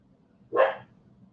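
A single short dog bark from another room, muffled and somewhat distant, rising sharply and fading within a moment against a quiet background.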